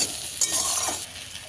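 Rui fish curry with chopped tomato being stirred in a frying pan, a brief burst of scraping and sizzling with a couple of spoon movements over a steady hiss.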